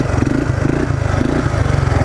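A Polaris ATV pushes through mud, its engine close and loud with a steady throbbing drone that pulses in rhythm as the revs rise and dip under load.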